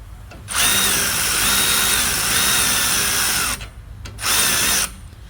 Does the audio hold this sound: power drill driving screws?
yes